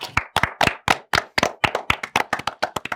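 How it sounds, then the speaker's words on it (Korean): A small group in a podcast studio claps in quick, slightly uneven strokes, close and crisp, about a dozen and a half sharp claps with no talking over them. "자, 박수."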